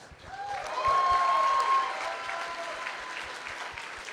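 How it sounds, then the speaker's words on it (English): An audience claps at a cosplay masquerade contest, swelling into a dense, steady round of applause and then tapering slightly, with a faint tone ringing through at the start. "let's give everyone a round of applause"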